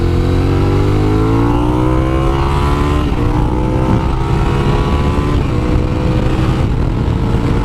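A Suzuki SV650S motorcycle, A2-restricted to 47bhp, accelerates hard through the gears: a loud, close engine drone climbs steadily in pitch, then drops and climbs again at each gear change.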